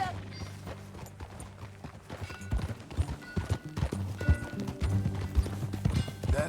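A horse's hooves clip-clop at a steady walking pace in Red Dead Redemption 2, close and continuous over low ambient game sound, without anyone talking.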